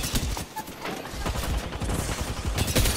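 Rapid gunfire and bursts of shots in the Apex Legends battle royale game, dense and continuous with impacts and chaotic combat noise throughout, no clear speech over it.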